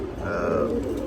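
Pet pigeons, Musaldom and Moyna jhak breeds kept in a loft, give one soft low coo close by, brief and slightly muffled.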